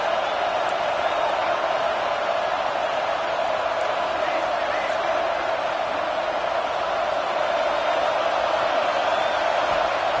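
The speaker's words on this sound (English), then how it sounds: "how nice is it to have the home crowd going absolutely bananas?" A home stadium crowd in EA Sports College Football 26 roars loudly and continuously, a dense unbroken cheer at Auburn's home game.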